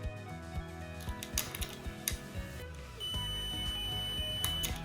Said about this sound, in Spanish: Al unir los dos bornes, suena un pitido